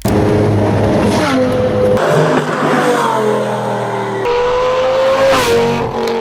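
A loud Lamborghini Gallardo V10 sports car engine revs hard through several gear changes, rising and falling in pitch with a sharp, aggressive wail.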